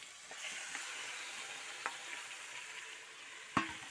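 Chicken sizzles and fries steadily in a pan with green chilies, a soft continuous crackle with occasional louder stirring clinks, heard alone without talk.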